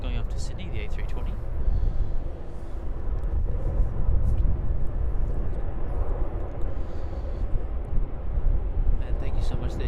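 An Airbus A320 departing from runway 34 at Melbourne Airport roars as a continuous, broad jet rumble with wind buffeting, while someone talks over it.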